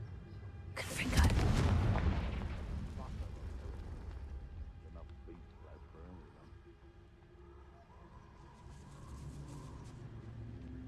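A fiery Confringo spell in the Hogwarts Legacy video game erupts in a loud, booming blast that rolls into a long rumbling tail, followed by quieter game ambience and faint clatter.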